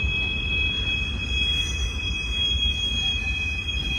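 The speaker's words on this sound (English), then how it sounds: "Those wheels were kind of loud." A Union Pacific train rolling into downtown Dallas, its wheels squealing in a loud, steady, high-pitched whine that holds throughout over a continuous low rumble of the passing cars.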